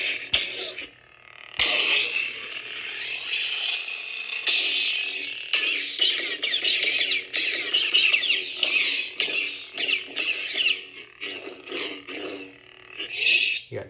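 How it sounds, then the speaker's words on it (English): Lightsaber hilt parts being assembled, with close, repeated metallic clicks, scrapes and twisting rattles coming in irregular bursts, loud and with no speech over them. "Put your hilt together."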